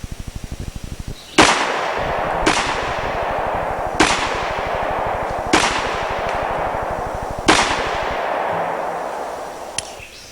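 Five sharp gunshots from a handgun fitted with a compensator and recoil spring system, fired at an uneven pace a second or so apart, loud and close, with a faint rattling hum underneath.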